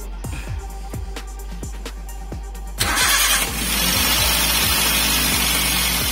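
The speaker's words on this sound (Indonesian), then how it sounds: "Yom, coba om, starter lagi." A Toyota engine is cranked by the starter with rhythmic chugging pulses, then catches and settles into a loud, steady idle close by.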